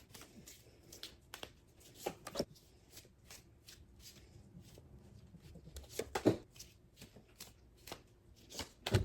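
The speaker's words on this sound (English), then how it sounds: "I'm going to edit out all the shuffling." Cards being shuffled in repeated quick riffles and soft slaps, close and fairly quiet, with brief pauses between bursts.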